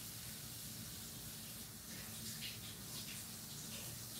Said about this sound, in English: Taking a shower.